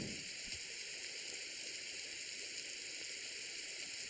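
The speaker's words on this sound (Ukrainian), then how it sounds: "Боже, як погано, що дощ." Steady rain falls in the Roblox survival game 99 Nights in the Forest, a constant soft hiss that runs unbroken throughout with no other sounds standing out.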